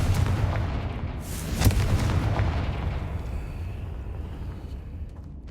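A Confringo fire spell bursts in Hogwarts Legacy with a loud booming blast near the start that peaks in a sharp crack, then rolls off into a fading rumble with no voices.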